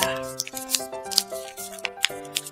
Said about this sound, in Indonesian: Kita gunting.